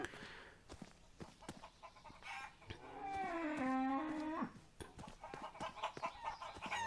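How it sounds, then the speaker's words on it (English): Chickens cluck in a steady flurry, with a rising, drawn-out squawk in the middle, set against light background ambience, in the video game Shenmue III. "There's chickens."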